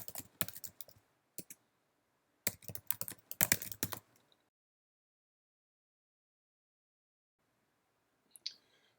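Someone types a search into a library website on a computer keyboard, producing bursts of rapid clicking keystrokes followed by several seconds of silence and one last click near the end.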